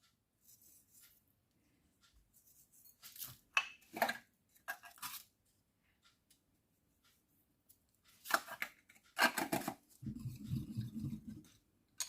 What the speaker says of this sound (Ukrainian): нарізаємо цибульку кріп, нарізаємо колбаску, я буду нарізати дрібненькими